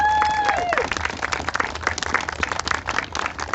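Town hall audience breaks into a dense round of applause and steady clapping that carries through, with a brief voice calling out over it at the start.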